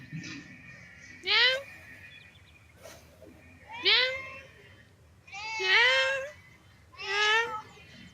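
Four distinct cat meows, each rising then falling, spaced a second or two apart, fairly close and clear over a quiet background.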